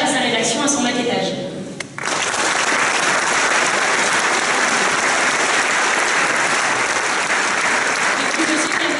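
After a moment of a voice at the opening plenary of a conference, the audience breaks into loud, dense applause that holds steady to the end.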